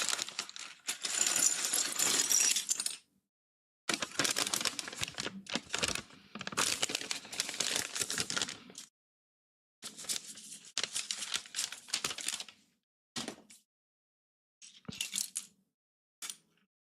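Paper bags of LEGO pieces are torn open and rustled, with bursts of crinkling, tearing and pieces clattering inside, broken by short silent pauses; close and fairly loud, no talking.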